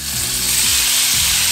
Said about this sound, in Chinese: 我们油锅热之后，我们下我们的牛肉条。